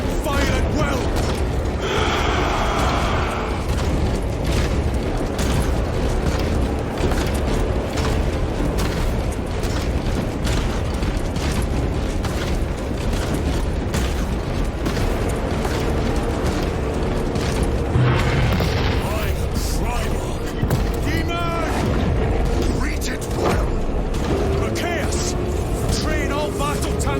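An ordered barrage in Warhammer 40,000 Space Marine 2 rages continuously, with rapid gunfire cracks, booming explosions and mechanical clatter piling into a dense battle din while voices speak over it.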